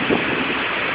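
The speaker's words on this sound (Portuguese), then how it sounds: "Com vento muito forte aqui na região da Avenida Paulista." Strong gusty wind buffeting the microphone on Avenida Paulista in São Paulo during a rainstorm, a loud steady rushing roar with no distinct breaks and no voices.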